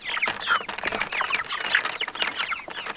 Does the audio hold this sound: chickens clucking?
yes